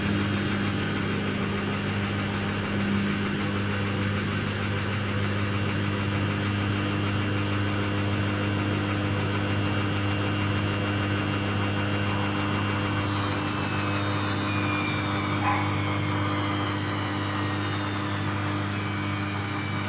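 A Samsung front-load washing machine spins during its rinse and spin cycle, giving a steady, loud motor drone with a constant hum that holds throughout and shifts slightly in pitch partway through.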